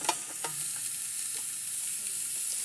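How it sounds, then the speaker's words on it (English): Carrots, celery and onions sauté over medium heat in a pan, giving a steady close sizzle with scattered clinks and scrapes of a utensil stirring them, and no talking. "we're going to stir it frequently to make sure we get no color on the vegetables"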